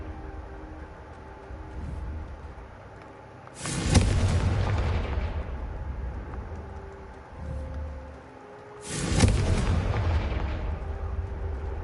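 Two heavy booming blasts of the Confringo fire spell in Hogwarts Legacy, each a loud, sudden burst that rolls off over a few seconds, the pair spaced about five seconds apart over a low rumbling background.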